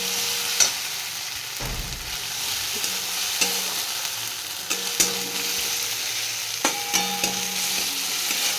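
Lentil fritters (bora) fry in oil with a constant soft sizzle, broken by a few sharp knocks of a spoon stirring against the pan.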